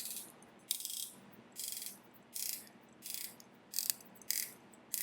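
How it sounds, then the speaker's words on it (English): Ratcheting bezel on an Ikigai Kame watch being turned in short bursts, about seven quick, crisp clicking runs spaced roughly evenly, close and quiet, with no talking. "can we complain about that ratchety sound of the bezel?"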